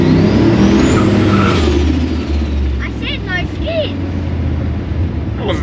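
Turbo LS-powered Holden Kingswood driving around the block, a loud steady engine drone with road rumble dominating throughout, while voices talk over it now and then.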